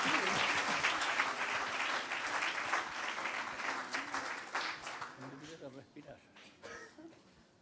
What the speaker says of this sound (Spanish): Un gran aplauso.